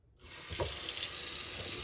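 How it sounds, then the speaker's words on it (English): Tap water running into a sink to rinse a K&N air filter from a Harley-Davidson Springer build, a steady close hiss that starts abruptly and keeps flowing with no voices. "And literally you just rinse it back out."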